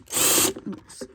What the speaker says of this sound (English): you just take out one screw